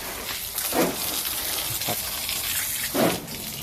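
A handheld bottle-top spray nozzle sends strong jets of water in a few short gushing bursts over a steady hiss, close up and alone with no talk.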